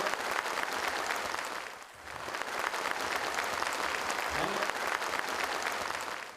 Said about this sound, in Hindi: जोरदार तालियों की अपील है साथियों।